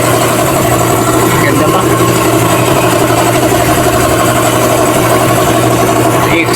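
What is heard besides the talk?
MG ZS car exhaust with engine idling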